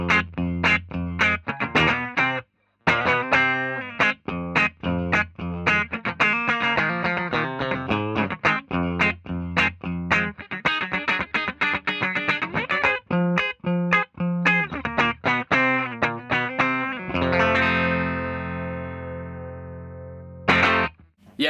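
A 1981 Fender Bullet Deluxe electric guitar on its bridge pickup, run through distortion and chorus effects, plays a busy string of picked notes and chords with brief gaps, ending on a sustained ringing chord.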